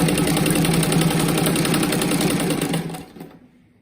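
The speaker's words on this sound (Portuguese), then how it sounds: "daí agora a gente passa uma costurinha bem na pontinha aqui" A sewing machine runs steadily, stitching bias binding along the edge of a patchwork rug: a close, loud, rapid mechanical whirring with fast rhythmic needle clatter that holds for about three seconds and then slows and stops.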